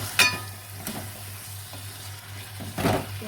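A spoon stirs chili powder into drumstick curry in a pan, giving a few short scraping, sizzling strokes over a faint steady hum, with quiet gaps between them.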